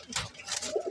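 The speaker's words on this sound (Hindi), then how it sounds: "तो तसल्ली से देख लो भाई इन कबूतरों को, ये सब सेल में अवेलेबल है" Pigeons kept for sale coo in short, soft bursts close by, a low murmuring call repeated against faint background noise.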